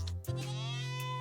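A single goat bleat from Minecraft, a short wavering nasal cry that holds steady for about a second, clear and up front with no talking over it.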